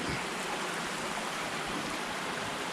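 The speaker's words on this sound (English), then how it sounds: "That is a massive spring." Water pours out of a massive natural spring at Fort Richardson State Park during high water, a steady, dense rushing hiss that holds constant throughout with no voices.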